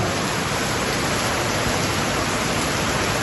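Heavy rain pouring down over a Punjab farm, a dense, constant broadband hiss that fills the whole moment at steady loudness, no voices.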